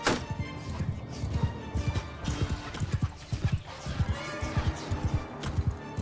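Horse hooves gallop in the Bannerlord video game with a Game of Thrones mod, a rapid, steady clip-clop that runs loud and close throughout with no voices.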